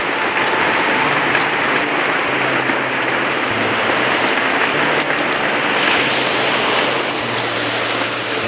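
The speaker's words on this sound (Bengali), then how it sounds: "আর তোমরা দেখো কি জোরে বৃষ্টিটা এসেছে," Heavy rain pours down steadily and loudly outside a home kitchen during an evening downpour, a dense continuous roar of drops drumming on surfaces with no voices.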